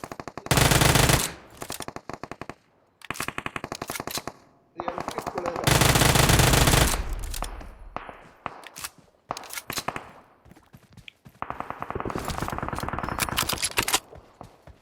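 Machine gun fire in the battle game BGMI comes in loud, rapid bursts separated by short pauses, with lighter scattered shots and shuffling between volleys.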